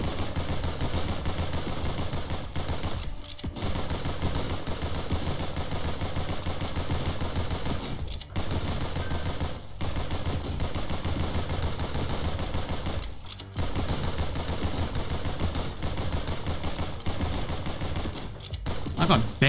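Relentless rapid gunfire of oversized bullets in the game GunCraft Survivor, a dense continuous clatter of shots with only brief breaks, no talking over it.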